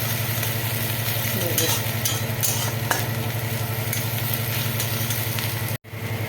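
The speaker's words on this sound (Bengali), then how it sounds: "এবার পেঁয়াজ আদা রসুন একসঙ্গে মিশিয়ে দেবো ভালো করে নাড়িয়ে নেব" Onion, ginger and garlic stirred together in a sizzling pan, with continuous frying hiss and a rhythmic low scraping, plus a steady background hum throughout and a brief drop near the end.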